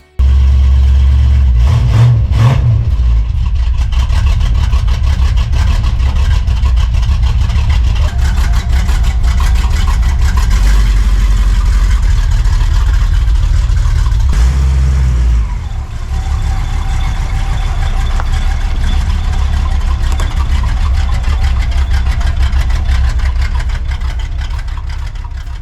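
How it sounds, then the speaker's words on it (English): A car fitted with new headers and mufflers, a 2500 stall converter and 275 Cragar wheels fires up and settles into a loud, deep, steady rumble close by, with a brief dip and blip partway through. "and listen to that sweet rumble."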